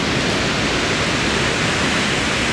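The Isar river in Munich rushes past in a loud, steady broadband roar of churning water, close by and continuous, with no voices over it.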